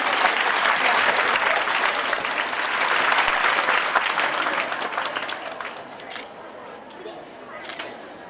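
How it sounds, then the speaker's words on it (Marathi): Loud applause from an audience at a school alumni reunion gathering, dense sustained clapping close and full for several seconds, then gradually thinning and fading toward the end. "जोरदार टाळ्यांचा"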